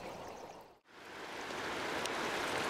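A stream flows in a steady, broad rushing wash of water, close and continuous, dipping briefly near the start before swelling back to full strength.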